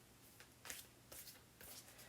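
A deck of tarot cards being shuffled by hand, three soft riffling bursts spaced about half a second apart, close but quiet, with no talking.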